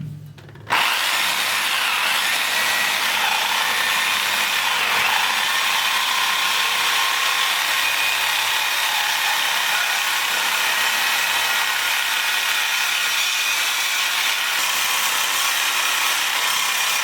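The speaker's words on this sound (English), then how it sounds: "I'm going to try to get the Sawzall here to get the straightest cut that I can on the back of this guy" A reciprocating saw cuts through square steel tubing for a log arch hauler build, a steady, loud, buzzing rasp that starts abruptly and runs unbroken, alone with no voices.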